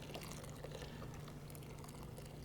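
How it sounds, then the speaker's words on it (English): Boiled, very hot water poured steadily over bulgur wheat, a continuous close liquid rush lasting throughout with no talk. "So we have boiled water. It's very hot. You need to be careful. And we just pour it."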